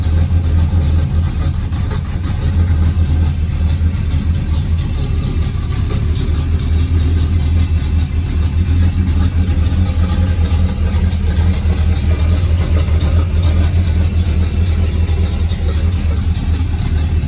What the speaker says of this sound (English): It is it does have a Tech EFI system in it, so let's see if it'll crank right up.